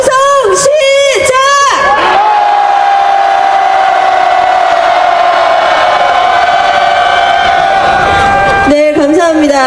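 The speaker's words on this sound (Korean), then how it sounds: "함성 시작!" A protest crowd at a Korean general strike rally roars in a loud, sustained shout and cheer that swells and holds for several seconds, framed by brief chanted voices at the start and end.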